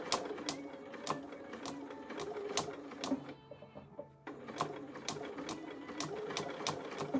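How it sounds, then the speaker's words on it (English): A sewing machine needle punches through a thin sheet of plastic in quick, regular clacking taps, stopping briefly in the middle before the rapid stitching resumes, close up. "You can hear it popping that little bit of plastic."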